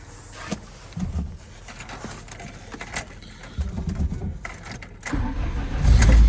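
An MTZ tractor running on petrol, its engine block preheated, cranks and then catches. Rattling and clattering come first, and a loud, close low rumble swells near the end. No one speaks.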